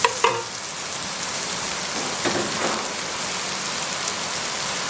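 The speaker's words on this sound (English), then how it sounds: "I'm going to add the garlic and celery first. I'm going to stir this around a little bit." Shallots, garlic and celery sizzle steadily in a hot pan for moules frites, a dense crackling hiss with a few clinks of stirring near the start.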